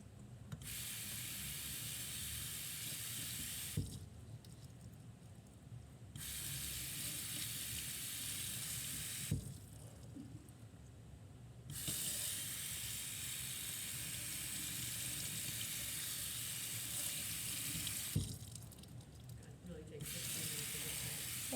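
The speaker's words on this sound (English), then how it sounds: "Oh, the sink is fun." A sink tap runs steadily during a surgical hand scrub in a lab, a loud continuous hiss broken by three short pauses where the flow is interrupted, with faint background voices.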